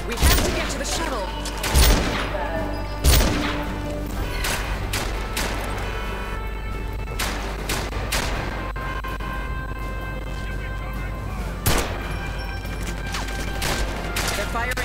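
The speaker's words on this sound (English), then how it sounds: "They're firing RPGs." RPG rockets fired in the 007 Legends video game, heavy booming blasts at irregular intervals over a constant roar of battle noise and other sounds.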